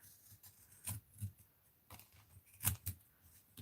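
Scissors snipping paper pull tabs for a recipe and art journal, a handful of quiet, spaced crisp cuts with soft handling noise between them, close and faint.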